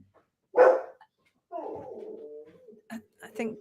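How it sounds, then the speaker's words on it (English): Indoors, cats and a dog make a commotion: one loud bark-like yelp up close, then a drawn-out whining moan and a few shorter yelps and scuffles. "There's the cats and the dog, they're all going to pieces."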